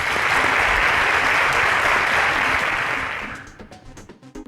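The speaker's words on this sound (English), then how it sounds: "round of applause for him," A quiz show studio audience gives a contestant a loud round of applause, a dense burst of clapping that holds steady for about three seconds before fading into scattered claps.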